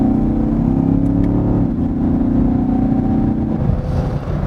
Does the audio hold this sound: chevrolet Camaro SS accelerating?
yes